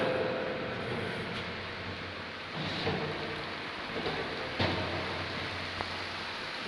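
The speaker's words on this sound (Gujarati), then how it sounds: "ઝરમર ઝરમર વરસે છે" Light drizzling rain in Kudi village makes a soft, steady hiss of patter that lasts throughout, faint and even, with a few low rumbles and bumps underneath.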